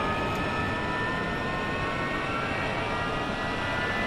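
Saab SK-60B jet engine in the DCS flight simulator spooling up from start toward idle, a steady loud whine and roar with a high tonal hum holding evenly throughout.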